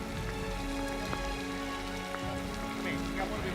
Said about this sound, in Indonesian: Pras, ini ada petir. Aku takut banget sama petir.